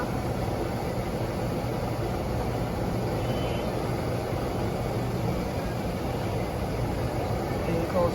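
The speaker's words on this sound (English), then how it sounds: "I'm in the laundromat, so if you hear voices in the background" Laundromat ambience: a constant broad hum of machines with indistinct background voices murmuring throughout, fairly loud and unbroken.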